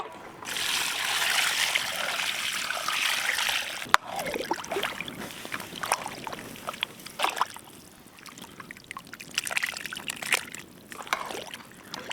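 Water trickles and splashes into a cooking pot of mutton head curry, first as a steady pour, then as scattered splashes and drips.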